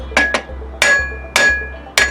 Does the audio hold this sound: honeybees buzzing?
no